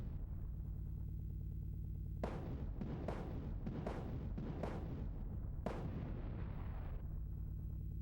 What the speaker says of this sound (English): Take 6 of the cannon shots.